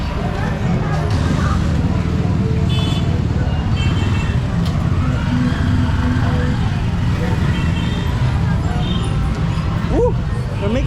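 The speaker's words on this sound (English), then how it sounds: "Oh, I got traffic jam." Street traffic near Taft Avenue in Manila, a steady loud rumble of cars and buses idling and crawling through a jam, with people talking nearby and occasional brief clanks over the continuous engine drone.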